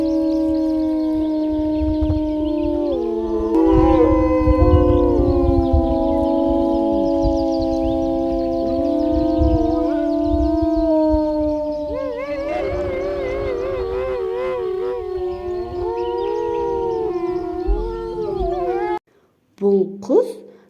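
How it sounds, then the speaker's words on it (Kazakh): Several wolves howl together in long, wavering, overlapping tones that rise and fall close by, a chorus lasting many seconds before a short break and a final cut-off. "Ал бұл қасқыр."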